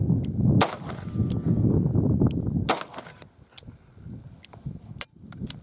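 A Smith & Wesson 625 revolver fires mild cast .45 ACP rounds loaded with 4 grains of Unique powder: two loud, sharp reports with quieter cracks between and after, and no talk.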